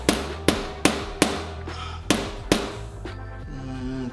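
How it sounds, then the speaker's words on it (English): A mallet lightly tapping a motorcycle fork on an Indian Chief, with about eight sharp ringing knocks at uneven intervals, each decaying briefly, close and alone without talk. "now I'm just gonna lightly tap with the mallet and get it the exact height that it's supposed to be"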